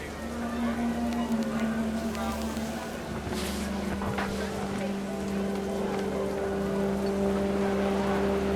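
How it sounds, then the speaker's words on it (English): Heavy rain pours in the video game What Remains of Edith Finch, a dense, continuous hiss heard at steady volume beneath sustained musical tones. "The rain came down in buckets then"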